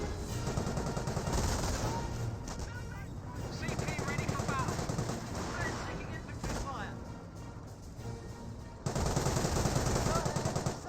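A Bren carrier takes fire in the World War II strategy game Company of Heroes. Dense, continuous machine-gun bursts and gunfire rattle for the whole stretch, loud and close, and grow heavier near the end.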